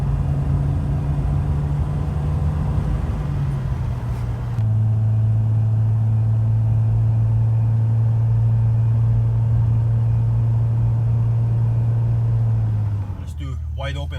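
A 1986 BMW E28 535i engine under medium acceleration, a steady droning hum that climbs slightly in pitch and holds, heard from inside the car, loud and continuous before settling near the end.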